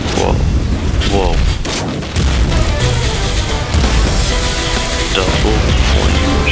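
Double flame shots burst out in Nuclear Throne, a dense run of loud booming blasts and fiery bursts that keep going over continuous game noise, with someone talking over them.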